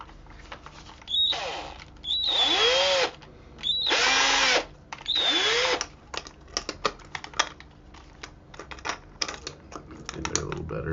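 A power drill spins a plastic bottle to wind fishing line off a reel, sounding in three sustained whirring bursts with rising and falling pitch, followed by scattered clicks and light handling noises.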